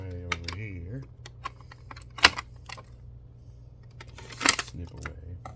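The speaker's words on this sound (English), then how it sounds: "there's some tabs here, but I can't really quite get at them, so I'm gonna snip away" Scissors snip at plastic tabs on toy packaging for a cartoon-collection Ram Man figure, giving sharp, close clicks scattered through the clip while a person talks.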